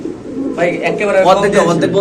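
White king pigeons coo with low, soft, throaty calls nearby, partly under someone speaking loudly close to the microphone.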